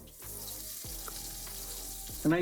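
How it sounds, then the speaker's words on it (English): A sous vide pork roast sears in a hot pan with a loud, continuous sizzle at close range, shifting slightly as the meat is moved, with a brief louder flare at the end. "typically you want to let this sear for a couple minutes on each side"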